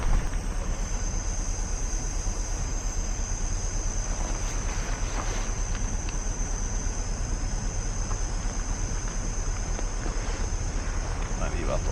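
Strong outdoor wind at a cold winter campsite, roughly 30-mile-an-hour gusts buffeting the microphone in a loud, constant rumbling roar throughout.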